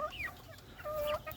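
Rhode Island hens and chicks cluck close by, a few short rising and falling calls in quick succession with a quiet pause between them.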